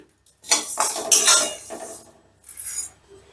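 Fried mung dal scooped out of a pan with a metal spoon: a few quick, close scraping and clinking strokes of metal against the pan, with a short pause before a final scrape.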